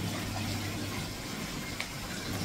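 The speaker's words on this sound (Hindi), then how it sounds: "झरना।" A waterfall at a resort pours in a steady, even rush of water, moderately quiet and unbroken throughout.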